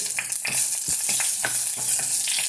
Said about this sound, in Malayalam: ഇനി നമുക്കിതൊന്ന് ഇളക്കി വയ്ക്കാം